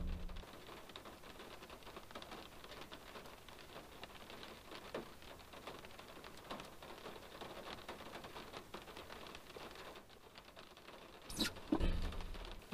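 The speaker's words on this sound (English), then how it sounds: "it's really raining" Heavy rain falls outside a customer's front door during a food delivery, a steady close hiss of drops on surfaces that stays even throughout, with a brief louder knock near the end.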